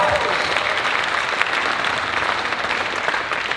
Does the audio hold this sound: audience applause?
yes